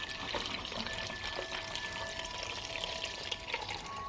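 Maple syrup poured into kombucha, a steady liquid trickle and splash running continuously for a few seconds at close range with no talking.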